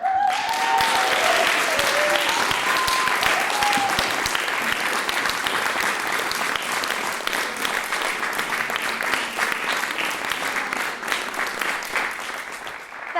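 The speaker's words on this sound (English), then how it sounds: "Let's give him another round of applause." Audience applause at a comedy showcase in a Newport club, a dense, sustained clatter of many hands that stays loud throughout, with faint cheering voices near the start.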